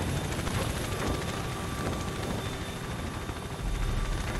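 Helicopters arriving in the Call of Duty: Ghosts mission All or Nothing, a steady, dense rotor and engine roar that holds loud and constant throughout, with no voices over it.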